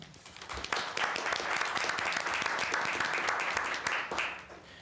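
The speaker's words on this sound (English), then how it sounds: "I think you all deserve a round of applause" A town council meeting audience applauding, a dense burst of clapping that swells quickly, holds steady for about four seconds, then fades out near the end.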